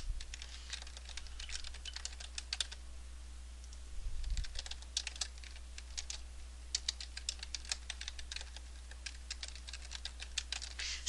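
Someone types on a computer keyboard while working in Dreamweaver CS3, making fairly faint, quick irregular key clicks in bursts over a steady low electrical hum.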